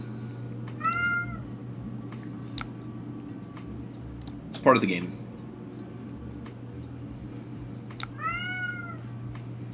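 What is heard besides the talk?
cat meowing loudly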